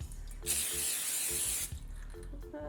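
A sustained hiss of cooking spray on a metal muffin tin lasting about a second, close by, with light clinks of the pan before and after.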